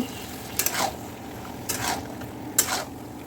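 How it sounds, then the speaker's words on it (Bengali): Boiled taro leaves and Malabar spinach stems get stir-fried together in a pan, with three separate scraping spatula strokes against the metal over a faint background hiss. "সবগুলোকে একসাথে সুন্দর করে কষিয়ে নেব"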